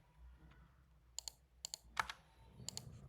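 Computer keyboard typed on during a coding session; the keyboard has a fault that makes it register keys twice. Quiet, sharp key clicks come in small clusters of two or three, alone over a low background hum.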